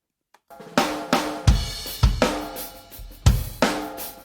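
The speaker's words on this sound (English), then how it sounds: "Let's hear the whole drum set." A drum kit plays a loose groove of kick and snare hits with ringing cymbal wash, fairly close and loud.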